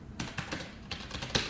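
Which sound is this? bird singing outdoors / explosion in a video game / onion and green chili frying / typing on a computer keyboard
typing on a computer keyboard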